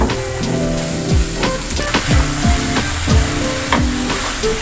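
Chicken pieces and green chillies sizzle loudly in a hot pan, a dense frying crackle broken by repeated scraping stirs.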